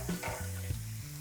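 Mushrooms frying in a hot pan give off a steady, close sizzle with a constant crackling hiss throughout, and no voices are heard.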